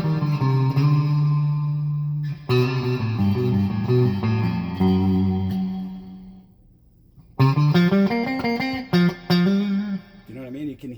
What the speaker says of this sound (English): Now the really interesting thing is when the reverb gets turned all the way up, your attack of your notes is kind of muted a little bit.